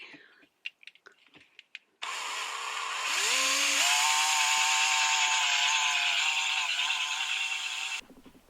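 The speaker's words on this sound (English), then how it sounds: "I've done 8 holes into metal without doing anything wrong" A power drill bores holes into metal inside a motorhome, with a few seconds of light clicks and handling before a loud, sustained whine that rises in pitch as it bites, then stops abruptly.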